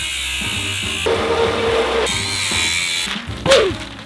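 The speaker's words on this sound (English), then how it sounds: "I took an angle grinder and a bandsaw to various parts of the motor to get some real life cross sections." Power tools, an angle grinder or bandsaw, cut through parts of a rocket motor with a loud, sustained whine and grinding. The pitch shifts between passes and ends with a rising screech near the finish. No voices are heard.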